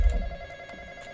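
A telephone rings in the Roblox horror game The Intruder, a steady electronic ring with a faint low rumble underneath and no talking.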